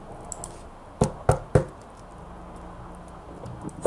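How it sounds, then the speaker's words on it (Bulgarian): Three sharp knocks on wood land in quick succession near the middle, fairly close and distinct, with quiet room background before and after, during a Minecraft survival play session. "Да чукам на дърво да не стане."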